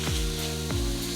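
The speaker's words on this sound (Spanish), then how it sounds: "Ahora la sofreímos un poquitito para ligarla con la cebollita" Stuffed pepper filling of ground meat frying with onion in a hot pan, a steady close sizzle throughout with two brief scraping stirs.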